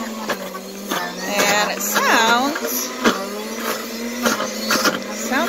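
A blender whirs steadily as frozen fruit is pushed down to the blades to make nice cream, with someone talking over the motor throughout.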